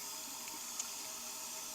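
Basil and other herbs from an Arizona home garden are rinsed under a running kitchen tap, giving a steady, close water hiss with no talking.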